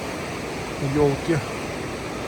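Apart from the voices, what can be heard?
mountain river flowing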